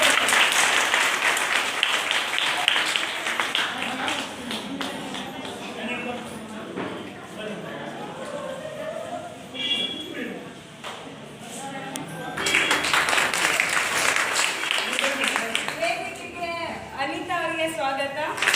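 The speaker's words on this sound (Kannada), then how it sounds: "ಅವರಿಗೆ ನಾವು ಚಪ್ಪಾಳೆ ತಟ್ಟುವ ಮೂಲಕ ಸ್ವಾಗತ ಮಾಡ್ತೇವೆ" A crowd applauds at a Rotary Club gathering to welcome four women bike riders. Sustained, dense clapping runs throughout, with a voice speaking over it.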